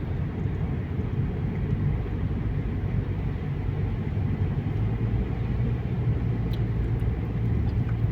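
A car drives through Warsaw in winter, giving a steady low road and engine rumble from inside the cabin with constant tyre noise and no clear talking.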